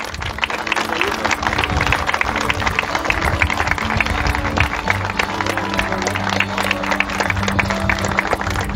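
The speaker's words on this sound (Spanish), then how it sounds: "A este momento emotivo lo acompañamos con aplausos." Crowd applause at Villa Ocampo's 60th anniversary city-declaration ceremony at the Rotonda de los Inmigrantes, a dense, steady wash of many hands clapping that holds loud and unbroken throughout, with a low hum beneath.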